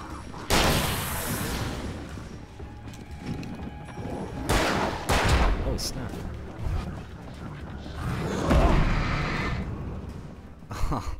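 Shotgun blasts in the Alan Wake video game, several loud booming shots spaced irregularly across the stretch amid game noise, with a person talking in between.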